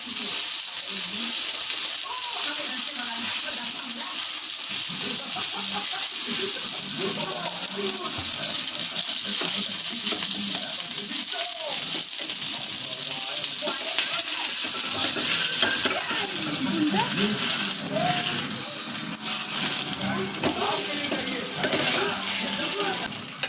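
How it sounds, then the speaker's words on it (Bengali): Aloo kulcha frying in ghee gives a steady, close, hissing sizzle that runs throughout, with a voice talking over it and faint clinks from the pan. "মানে এখন ঘি দিয়ে এটা ভেজে নিই"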